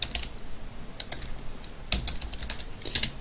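Fingers type on a laptop keyboard in quick, irregular bursts of close, crisp key clicks with small pauses between runs and no voices.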